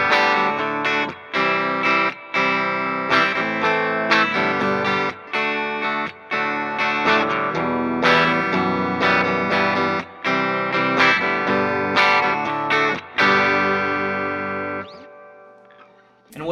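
Clean electric guitar played through a pedalboard with chorus and two delays split into a pair of Vox AC30 amplifiers, strummed chords and ringing arpeggios with shimmering chorus and echo tails, loud and up close, ending on a long fading chord.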